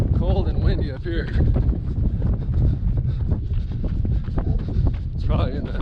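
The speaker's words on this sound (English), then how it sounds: "It is cold and windy up here." Steady wind on a cold, cloud-covered stretch of the Pacific Crest Trail buffets the microphone with a loud, continuous rumbling roar, while a person talks over it.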